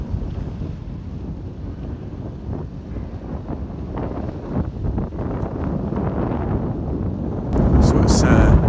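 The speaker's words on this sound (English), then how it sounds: "So it's a wee bit more windy up the top here." Steady wind buffeting the microphone on a clifftop near Aberdeen at night, a constant low rumble that grows louder and gustier near the end.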